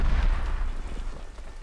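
Deep, rumbling explosions boom and roll continuously in the zombies mode of the video game Call of Duty: Black Ops Cold War, loud and dense with low-end thunder and no voices over them.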